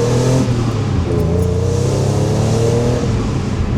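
A 600 hp BMW E46 M3 engine revs steadily with strong intake induction noise, a loud, close, sustained growl with a clear rising and falling pitch.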